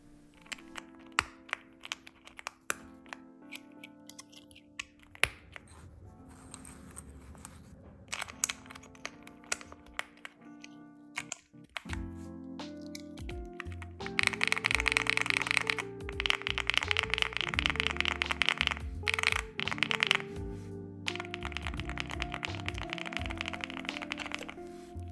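Keystrokes on a budget mechanical keyboard, comparing stock and lubed switches: quiet clusters of clacks at first, then a louder, faster run of dense typing in the second half, with no voices.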